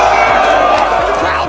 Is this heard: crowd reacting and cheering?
yes